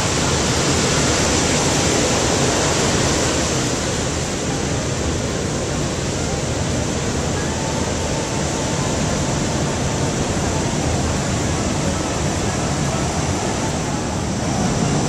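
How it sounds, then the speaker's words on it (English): Loud, continuous roar of heavy surf on an El Salvador beach in the rainy season, a dense wash of crashing waves with no breaks, filling the whole scene. "The surf is really wild today."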